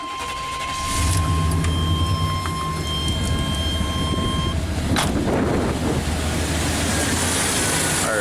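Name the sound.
engine of a 1988 Chevy K1500 truck running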